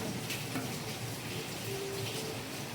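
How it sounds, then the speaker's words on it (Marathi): Rain falls outside during monsoon cooking at home, a soft, steady patter and hiss heard from a distance, quiet and continuous throughout. "आणि बाहेर मस्त असं पाऊस पडतोय."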